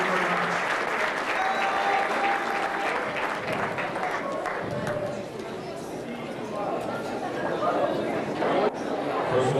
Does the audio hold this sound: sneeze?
no